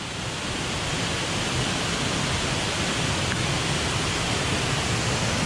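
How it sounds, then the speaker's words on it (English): A waterfall on a rainy day in Yorkshire: a steady, broad rushing roar with no breaks, moderately loud and unchanging throughout. "there's a waterfall"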